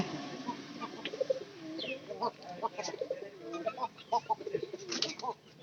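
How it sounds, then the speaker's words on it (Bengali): Domestic pigeons coo repeatedly at close range around a straw nesting area, their low throaty calls rolling in an uneven rhythm with faint chirps and brief wing sounds in between. "পায়রা নিচে নামছে"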